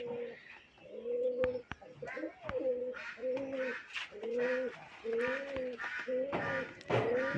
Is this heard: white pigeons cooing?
yes